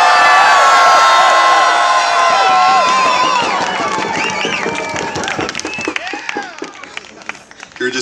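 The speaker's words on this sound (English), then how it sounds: "Can everybody please join us in the craziest cheer you ever let out on the count of three?" A large outdoor crowd at a Moose Hide Campaign gathering in Victoria, BC lets out a loud, sustained cheer of whoops and shouts that gradually breaks up into scattered yells and claps.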